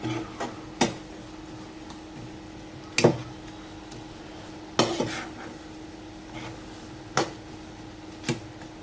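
Puran filling being stirred and mixed in a pan, a spoon clinking and scraping against the metal at irregular intervals, close but fairly quiet, with a faint steady hum behind it.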